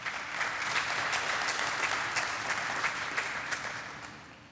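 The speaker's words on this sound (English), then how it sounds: "Yeah, clap for that." An audience breaks into clapping, a steady spread of many hands with a few sharper individual claps standing out, moderately loud and fading slightly toward the end.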